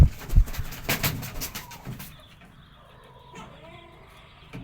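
A timid hen on a farm gives a few soft, low clucks at close range, brief and quiet after some louder handling noise at the start.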